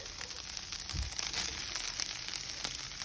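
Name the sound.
steak frying in a pan with onion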